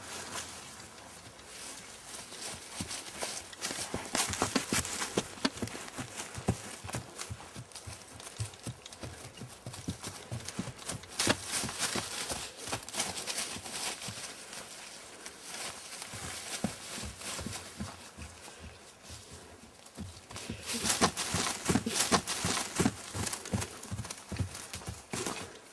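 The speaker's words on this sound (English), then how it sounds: "I'm going to do it with Dolly, to show how easily she'll go into trot, and then faster and faster" Horse hooves on the ground, moving from a walk into a quicker trot with clear rhythmic clip-clop beats, close and fairly quiet, steadying and speeding up over the stretch.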